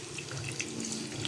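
Corn broth, the water left from boiling corn, poured into a cooking pot with shrimp and tomato paste, a steady close splashing stream heard alone for about a second.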